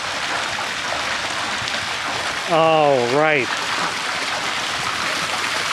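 Swimming pool return jets shoot streams of water, making a steady broadband hiss and splash throughout. A voice briefly speaks over the water in the middle.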